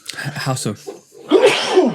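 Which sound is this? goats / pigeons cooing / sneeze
sneeze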